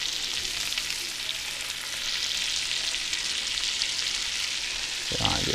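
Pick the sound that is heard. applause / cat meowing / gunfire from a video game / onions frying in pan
onions frying in pan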